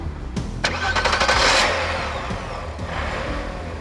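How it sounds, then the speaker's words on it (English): A 1996 VW Golf GTI with a 2.8-litre narrow-angle VR6 engine accelerates hard, the engine note rising loudly to a strong peak, then easing into a steady, lower drone as the car speeds along. "Mash the gas pedal at just about any speed and this car scoots"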